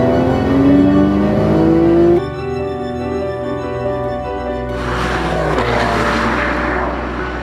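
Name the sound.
2012 Porsche 911 car engine driving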